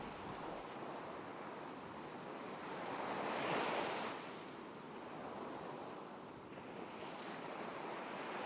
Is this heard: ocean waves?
yes